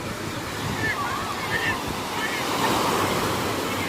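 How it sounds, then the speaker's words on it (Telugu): Sea waves roll and break at Mypadu beach near Nellore, a loud, continuous wash of surf mixed with gusty wind buffeting the microphone. "ఆ వేవ్స్ చూడండి ఏ విధంగా వస్తాయా"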